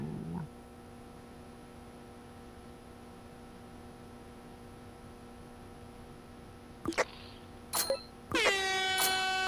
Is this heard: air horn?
yes